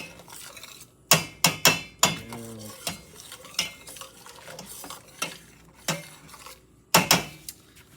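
A spoon scrapes and knocks against a pan as beef broth deglazes it during cooking for baked steak, giving irregular clinks and scrapes over a soft sizzle.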